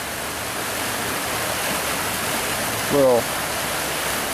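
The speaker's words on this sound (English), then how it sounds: "the creek is coming down from the mountains" Mountain creek spilling over a small waterfall partly formed by a log, a steady broadband rush of water throughout, with a brief spoken word breaking in near the end.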